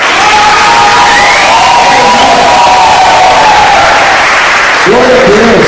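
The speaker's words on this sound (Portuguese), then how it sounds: "Vamos dar um aplauso para as portas." A crowd at a Christian youth camp gathering claps and cheers loudly, with whoops and shouting voices rising over steady applause and a fresh burst of cheering near the end.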